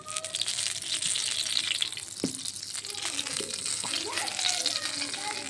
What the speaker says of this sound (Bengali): পেঁয়াজগুলো ভেজে দিলাম।